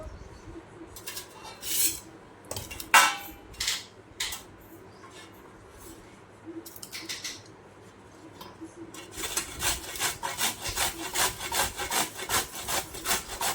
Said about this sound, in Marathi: अशा पद्धतीनं आपली कैरी किसून झाली